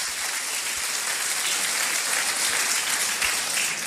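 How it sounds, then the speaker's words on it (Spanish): Loud, steady applause from an audience at a Spanish-language business opportunity meeting in Guadalajara, dense clapping filling the whole stretch with no pauses and no voices. "un fuerte aplauso para empezar con todo para ustedes"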